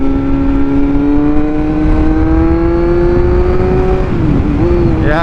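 A Kawasaki Z900 motorcycle accelerates hard while overtaking, its engine a loud, close, steady whine rising gently in pitch under wind rush, then dipping briefly near the end.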